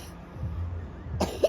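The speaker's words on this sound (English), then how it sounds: "When did you start coughing?" A single short cough from a child outdoors at a seaside park, a brief throaty burst near the end after quiet low rumble.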